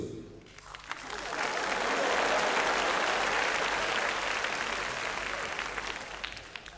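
Applause from a Hong Kong stand-up comedy audience, a broad wash of clapping that swells quickly and holds steady and loud throughout, fading only slightly at the end.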